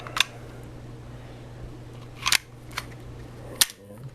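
Small metallic clicks and snaps, three or four sharp separate hits over a quiet hum, as a pin is pushed out of a handgun with a Browning lockup during disassembly.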